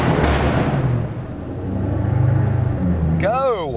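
A Ford Shelby GT500 engine and exhaust rumble loudly from close by and swell as the revs climb, while a voice talks over the engine noise throughout.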